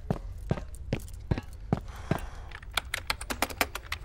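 Typing on a laptop keyboard in the video game Firewall Zero Hour; sparse, evenly spaced key clicks at first, then quicker bursts of tapping, close and moderately loud with no talk.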